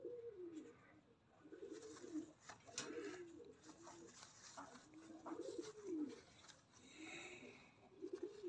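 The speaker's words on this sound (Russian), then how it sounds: "Прошлогодняя голубка. Да голубь." Uzbek pigeons coo close by in repeated low, rolling phrases at a steady rhythm, with faint background clatter and movement around them.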